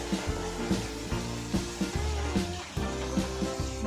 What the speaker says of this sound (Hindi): अदरक लहसुन का पेस्ट एक बार और डालेंगे क्योंकि ये हल्का सा बटर में पक जाए